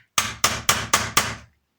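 A hammer drives pins into an M17 air gun mechanism, using a drill bit as a punch: five sharp, ringing metallic strikes in an even, rapid rhythm, close and loud, with no talking.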